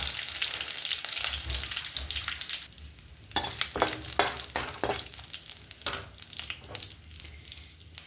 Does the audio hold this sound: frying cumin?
yes